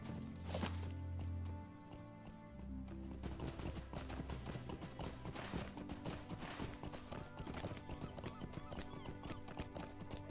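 A horse's hooves clip-clop steadily at a brisk pace in Lord of the Rings Online, a continuous rhythmic patter running the whole stretch over faint game music, with no talk.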